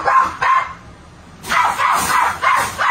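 A woman imitates a dog barking, giving a few loud, close woofs in quick bursts, a pause, then three more barks in a row.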